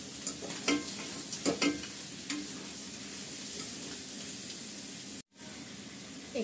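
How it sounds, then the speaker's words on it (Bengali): Meat fries with spices in a pan for parda biryani, a steady sizzle with several scraping stirs of a utensil near the start, then a brief dropout before the frying resumes. "ভালো করে মশলাটা আমি মাংসের সাথে কষিয়ে নিচ্ছি।"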